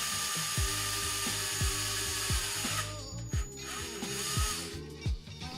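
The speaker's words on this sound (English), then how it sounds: "I also drilled holes in the centerpieces so that I could access the screw" Drill boring holes in wooden twisty-puzzle centerpieces, a powered motor whine ramping up and down in repeated short bursts, with ratcheting clicks between, close and alone with no voices.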